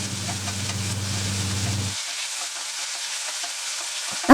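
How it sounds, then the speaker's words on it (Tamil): Chopped tomatoes and onion sautéing in a pan for radish sambar, a steady close hiss of frying that continues alone after a low background hum cuts out partway through. "தக்காளி நல்லா வதங்கட்டும்"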